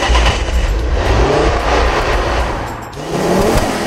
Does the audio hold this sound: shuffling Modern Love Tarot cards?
no